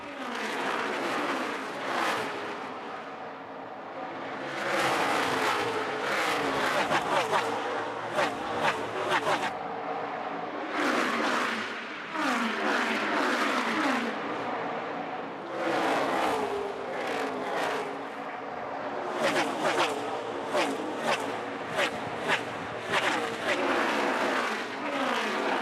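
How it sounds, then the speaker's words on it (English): NASCAR stock cars racing at Dover Motor Speedway, loud engine roars swelling and fading in repeated waves as packs pass, with a race commentator talking over the noise. "the top 2 have driven away from this group of 3 or 4 cars, all racing for 3rd"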